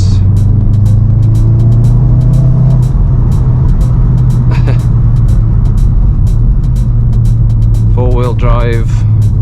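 A VW Golf R MK7.5 with four-wheel drive, a Racingline intake and standard exhausts, heard from inside the cabin with the window open, gives a steady low engine drone throughout, with a brief muffled voice near the end.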